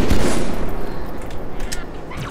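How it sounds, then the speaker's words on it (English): Rapid gunfire in Halo 2 rounds pierce a crate during a multiplayer match on the Metropolis map, a dense loud burst of shots running throughout with no pause. "You're shooting through the fucking crate."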